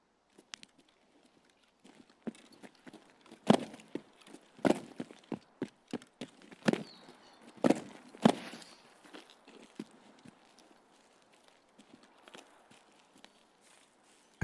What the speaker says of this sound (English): I think I just heard an extra footstep down here.